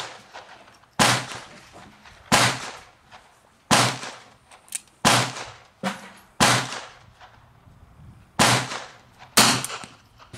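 Colt New Police .38 revolver fires about a dozen sharp shots loaded with 2.2 grains of Red Dot powder behind 158-grain round-nose bullets, each crack close and loud, spaced roughly a second apart with brief ringing tails, no talking.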